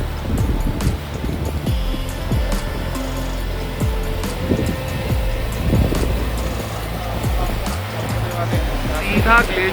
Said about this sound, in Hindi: हर जगह से पानी का स्रोत निकल रहा है, पानी ही पानी है